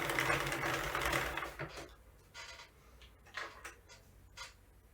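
A Sentro/Addi circular knitting machine is cranked in a steady mechanical whir that stops after about two seconds. A few softer clicks and clacks follow, up close, with no talk.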